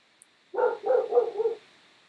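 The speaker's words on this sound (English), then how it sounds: "What is the dog barking at?" A dog barks four times in a quick close burst, loud and clear against a quiet room with a faint steady hum.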